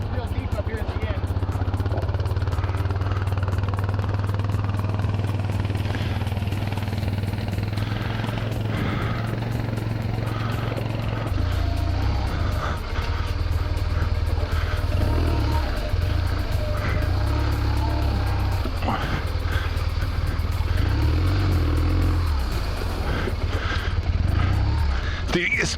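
Motorcycle engine labouring steadily through a deep, rocky, slippery water crossing on a Continental Divide adventure ride, a loud continuous drone that shifts pitch partway through, with voices talking over it.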